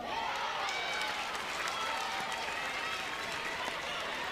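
Near-capacity stadium crowd roars and cheers steadily through a college softball game between Oklahoma and LSU, a dense, sustained wall of voices and clapping with no breaks.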